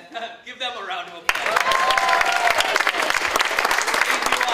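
After a short stretch of talk, a conference audience opposed to drone warfare erupts into sustained, loud clapping that continues evenly to the end.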